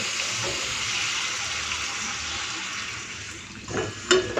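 Water is poured into a pan of sizzling pomfret fish curry with tomato paste and chilli, producing a steady hissing rush that fades, followed by a short clatter near the end.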